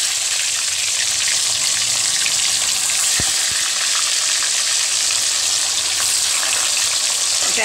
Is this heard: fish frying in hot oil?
yes